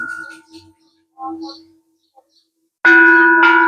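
A temple bell rings out clearly near the end with a sustained metallic tone, struck twice in quick succession, after softer tones and a quiet pause.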